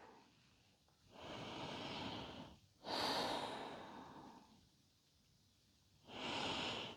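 Three slow, deep breaths are drawn during a gentle yoga session for lower back pain, each a long airy inhale or exhale heard close and alone, separated by quiet pauses.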